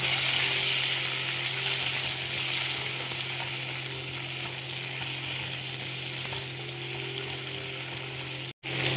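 Thin potato slices fry with onions in a pan, a steady close sizzle holding throughout with a brief dropout near the end.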